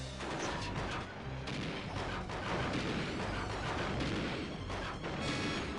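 The Armadillo boss in Donkey Kong 64 fires its big cannons in a continuous barrage of heavy booms and crashes, loud and dense throughout, with no gaps.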